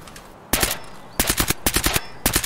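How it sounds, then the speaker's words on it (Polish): Suppressed gunfire in the shooter game Escape from Tarkov comes in sharp, close bursts: a single shot, then a pair, a quick run of several, and a final pair, separated by brief quiet gaps. "Słyszałem ciche strzały z tłumnika."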